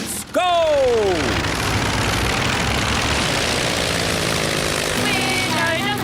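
A cartoon aircraft takes off: a rising whistling sweep at the start gives way to a steady, loud propeller-engine drone that carries through, with a faint chirpy tone returning near the end.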